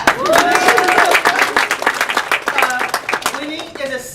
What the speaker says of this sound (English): Give Winnie a clap.